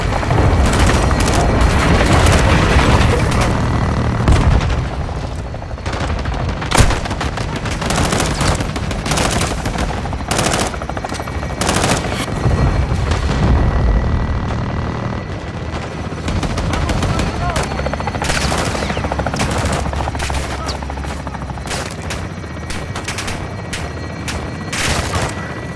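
Artillery strikes and gunfire from Call of Duty Modern Warfare 2 pound continuously, with loud booms and rapid bursts of automatic fire layered over one another. Radio-style voices speak intermittently through the barrage.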